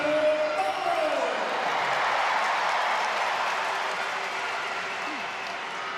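Crowd noise at a women's hockey World Cup pool match between the Netherlands and Belgium in The Hague, a broad steady roar of cheering and applause with a commentator's voice over the start.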